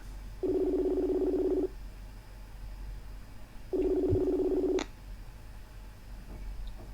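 A phone call rings out over a loudspeaker, two long buzzing rings separated by a pause, clear and moderately loud against a quiet room hum, with a brief click near the end of the second ring.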